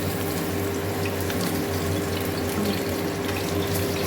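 Water from a pumped supply pours steadily and continuously, a loud, close, unbroken rush with a low mechanical hum beneath it, in a home setting where a chicken dish is being cooked nearby.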